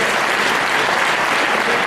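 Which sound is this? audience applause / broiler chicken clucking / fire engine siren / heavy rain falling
audience applause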